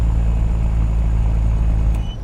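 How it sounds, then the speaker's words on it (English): A Peterbilt 389 truck engine runs steadily with a deep, loud, constant diesel rumble heard from inside the cab, easing slightly near the end. "My engine a bit loud, chat, or can you hear it alright?"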